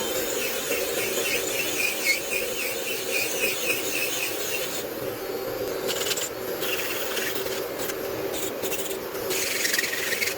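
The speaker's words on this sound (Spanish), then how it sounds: "Lo más grueso yo lo voy a ir sacando con el torno, pero después la forma última se la termino de dar con la lima manual" An electric nail drill and a manual file shape a sculpted polygel nail, giving a steady high-pitched whine and a continuous rasping, rubbing scrape close up, with short filing strokes toward the end.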